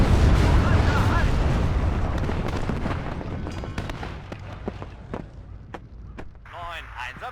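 Artillery and gunfire from the WARNO real-time strategy game: a dense rumble of heavy booms fills the opening, then thins out into scattered, sharper shots and distant blasts.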